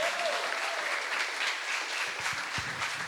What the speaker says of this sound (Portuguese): Uma salva de palmas, gente, para os nossos alunos do Foundations.